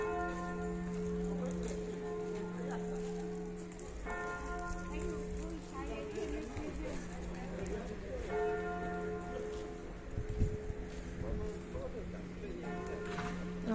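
A church tower bell rings loudly and repeatedly on a city walk, its tolls sustained and overlapping over outdoor street ambience, with a person talking briefly.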